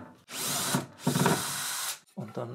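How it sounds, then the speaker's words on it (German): Cordless power drill backing a screw out of a wooden workpiece, two long loud whirring runs of about a second each with a brief pause between, then a shorter third burst, close up. "Also Schraube wieder raus."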